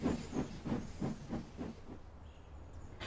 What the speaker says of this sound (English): Percy puffed away to collect Thomas's train.